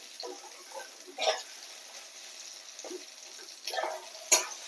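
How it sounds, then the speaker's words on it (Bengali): Eggplant slices fry in hot oil for a Bengali bhaja, giving soft, intermittent crackling sizzles with a few sharper bursts, close but fairly quiet. "বেগুনটা লাল লাল করে ভাজা হয়ে গেছে"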